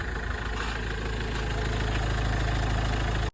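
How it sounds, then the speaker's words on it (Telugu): A 2014 Mahindra XUV500 W8 idles smoothly at close range, its engine giving a steady, even rumble with no talk over it. "ఒకసారి మీరు ఇంజన్ సౌండ్ చూసుకోవచ్చు, చాలా స్మూత్గా ఉందండి ఇంజన్"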